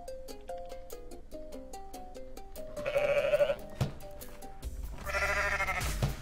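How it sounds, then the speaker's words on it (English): A cartoonish goat bleats twice in the Goat Simulator video game, loud, wavering cries rising over a plinking game music melody that runs beneath throughout. "Not only did it make a goat noise"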